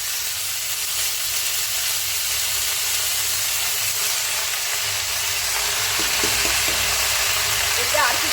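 Leafy greens drop into hot oil with fried mustard seeds and chilli, producing a loud, steady, broad sizzle that lasts throughout, with faint stirring clicks toward the end.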